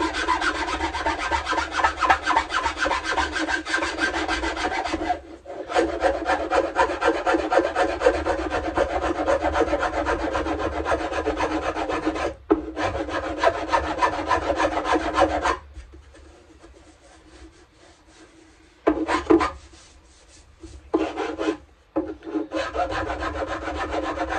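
Wood being sanded by hand on a Greek bouzouki under construction, a steady close rasping rub in long continuous strokes, broken by a few short pauses and quieter, lighter passes near the end.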